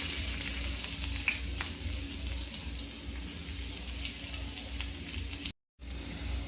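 Garlic frying in hot oil in a pan, a steady bright sizzle with faint crackles throughout, briefly cutting out near the end, with no voices.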